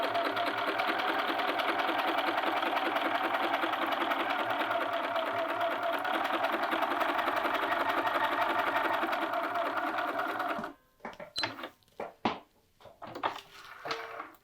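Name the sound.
sewing machine stitching a sleeve seam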